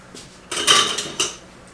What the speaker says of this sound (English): I need a spoon to get some of the juice.